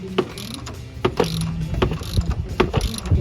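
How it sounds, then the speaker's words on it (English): A pulley puller works on the power steering pump of a 1994 GMC 1500, giving repeated sharp metallic clicks and ratcheting creaks in an uneven rhythm, close and fairly loud. "So here's the puller you put on."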